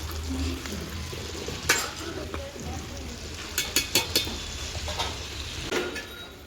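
Amla chutney fries in groundnut oil in a pan over a wood-fired stove, sizzling steadily while a spoon stirs and scrapes, with several sharp metallic clinks midway and some background voice.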